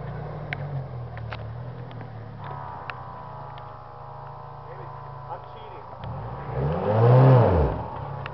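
A four-wheel-drive vehicle's engine rumbling on an off-road trail, idling low and steady before a swelling rev near the end, fairly close.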